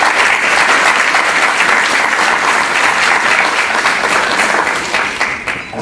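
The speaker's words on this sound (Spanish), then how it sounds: "Acompañemos con fuertes aplausos." Loud, dense applause from an audience at an academic conference fills the space steadily and begins to taper off at the very end.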